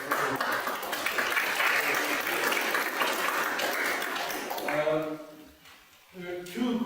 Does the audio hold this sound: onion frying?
no